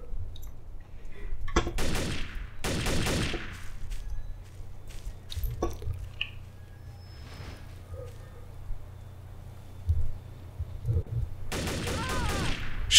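Gunfire in the first-person shooter game Trouble in Terrorist Town, several sharp shots and short volleys spread across the scene, some close and some more distant, with quieter footsteps and background sounds between them.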